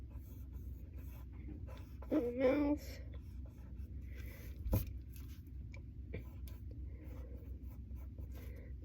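A pen scratches on paper drawing a cat's face, soft intermittent strokes and short scribbles, faint and close, while a person talks quietly in between.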